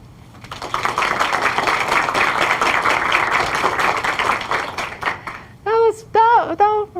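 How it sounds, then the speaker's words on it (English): Conference audience of educators clapping steadily for about five seconds, rising quickly and holding dense, then stopping as a nearby voice speaks. "I want you to start clapping and keep clapping until I get here"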